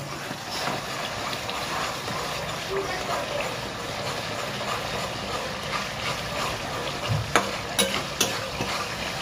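Tomato cooking down in a pan for egg bheja fry, giving a continuous soft sizzle with occasional stirring and a couple of sharp utensil knocks near the end, close and fairly even in level.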